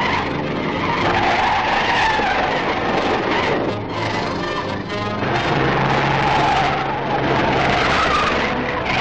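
A 1941-era car pulling away with tires skidding and squealing, a loud sustained screech over engine rumble that dips briefly midway, then surges again.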